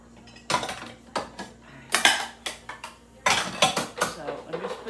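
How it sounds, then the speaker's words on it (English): Dishes and cutlery being put away in a kitchen, with clinking plates and rattling silverware in several close, loud bursts and a faint hum underneath. "So I'm just putting the dishes away."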